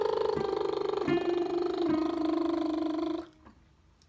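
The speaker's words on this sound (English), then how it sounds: "so a lip trill or a tongue trill." Voice sustaining a buzzy lip or tongue trill as a vocal cooldown, starting around B flat 5 and stepping down the scale, steady and close for about three seconds before breaking off.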